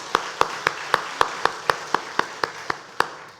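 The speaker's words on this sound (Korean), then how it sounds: "우리 박수로 축하합시다" Slow, evenly spaced single claps in a church worship service, about a dozen sharp hits at a steady pace with a faint room echo and no voices.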